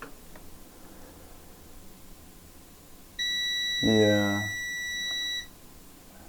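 A steady high-pitched electronic beep from a multimeter in continuity mode, testing an Acer Aspire R7 laptop's circuits, holds for about two seconds, close and clear, while someone briefly speaks over it.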